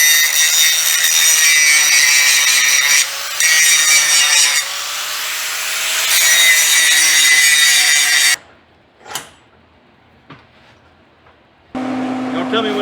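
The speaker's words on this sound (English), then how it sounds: "Let's put us a chamfer on it, and we'll do that to the other end too." A power grinder cuts a chamfer on the end of a steel tie rod end on a 1978 Ford Fairmont, a loud steady whine with slight pitch shifts for about eight seconds, then quiet with a couple of faint knocks before a tool hums again.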